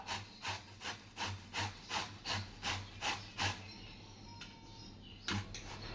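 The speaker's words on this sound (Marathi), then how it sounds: "भोपळा किसून घ्यायचा" Rhythmic rasping strokes of bottle gourd being grated, about a dozen even scrapes close by, then slowing to a few scattered scratches.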